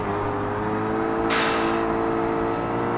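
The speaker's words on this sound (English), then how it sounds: "Just love hearing turbo noises coming from behind me." Turbocharged car engines in the Forza Motorsport racing game: a steady, dense engine drone with a brief hiss-like surge in the middle, continuous and moderately loud, with no talk.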